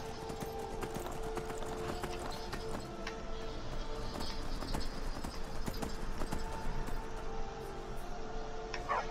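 A war horse in the Skyrim video game trots with steady, rhythmic clip-clopping hooves that continue throughout at moderate distance, over a faint game background.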